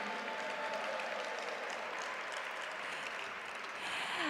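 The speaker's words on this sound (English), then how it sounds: "Let's give a round of applause to the upcoming performance" Applause from an audience at a Lunar New Year heritage celebration, sustained and even clapping throughout, moderately distant, with no speech over it.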